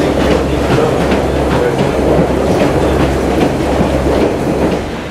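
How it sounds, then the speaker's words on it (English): A Pacer diesel unit runs over jointed rail in Lancashire, giving a steady, loud onboard rumble with a regular clickety-clack as the wheels cross the rail joints, and no voices. "Some jointed track there."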